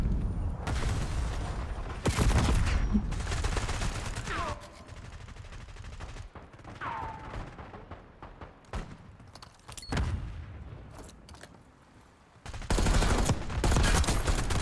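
Gunfire in Black Ops 6 multiplayer, with loud bursts of automatic fire and rapid shots in several clusters, separated by quieter stretches that carry faint mechanical clicks.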